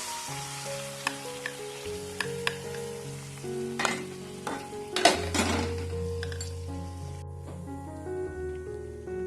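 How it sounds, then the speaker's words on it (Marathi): Cooked lentils tipped into hot ghee in a pan and stirred, with metal spoon clinks and scrapes against the pan, a burst of bubbling sizzle midway, then steady frying under a low tonal hum, no talking. "कढईत 1 चमचा तूप घालून घेतलेला आहे आणि आता त्यामध्ये ही शिजवलेली डाळ घालूया"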